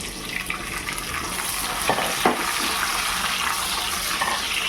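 Chopped onion sizzles in a nonstick pan, a steady close crackling hiss with occasional soft scrapes of stirring.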